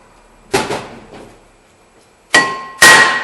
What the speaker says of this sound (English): let me grab a hammer and we're going to give that a couple of taps